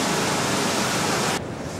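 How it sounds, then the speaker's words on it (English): Water pouring over the Embrey Dam, a steady, loud waterfall-like roar heard close up, broadband and unbroken until it drops slightly near the end. "you're almost in a cave on the backside of a waterfall"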